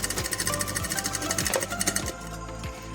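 A sewing machine stitching a pillow cover runs with a rapid, steady mechanical chatter, close and loud throughout with no talking.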